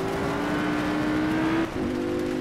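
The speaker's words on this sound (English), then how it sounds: "The rear end losing traction, spinning the wheels, which caused the revs to go up and the rear end to step out a little bit." Audi R8 V10 in Project Cars at Imola, its engine revving hard as the rear wheels spin and lose traction: a loud, steady high-pitched engine tone that climbs, dips briefly, then holds again with no talk.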